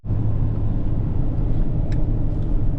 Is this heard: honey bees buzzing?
no